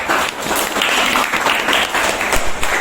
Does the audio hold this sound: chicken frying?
no